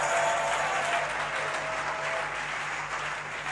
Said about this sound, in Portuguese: Ei, você, aplauda ele de novo.